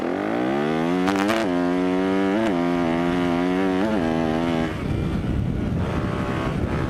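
KTM 350 dirt bike engine heard while riding, loud and close, revving up through rising pitch in several pulls with brief gear changes, then dropping to a rougher, noisier rumble at the end.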